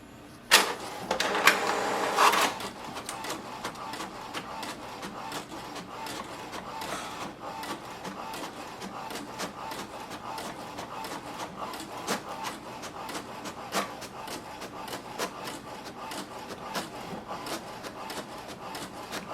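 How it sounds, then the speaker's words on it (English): An HP DeskJet 4355 inkjet printer prints a page, opening with a short loud mechanical whir as paper feeds, then a long run of rhythmic scratchy print-head passes and soft clicks, close up with no talk. "Printer is connected and it has started to work."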